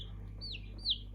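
A light Sussex chicken chick gives two short, high peeps, faint over a low steady hum, with the second peep a little louder.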